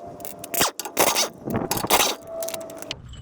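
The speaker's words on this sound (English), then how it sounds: "removing these two bolts" Bolts come out of the transmission on a 2004 Nissan Frontier, heard as close, quick bursts of metallic ratcheting and scraping with brief pauses between and no talking.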